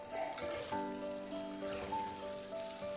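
A ground paste of ginger, onion, garlic and chilli frying in a pan, a soft, steady sizzle close by with faint tonal hum and occasional stirring noises.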